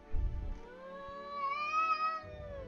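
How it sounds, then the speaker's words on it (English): Peach, a pet cat, lets out a long drawn-out wail that rises and bends in pitch, close and clear against a quiet room, with a faint low rumble underneath. "Can you hear my cat wailing?"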